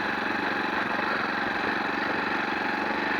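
A motorbike engine idles steadily and close by, with an even low rumble and a faint rhythmic chug throughout.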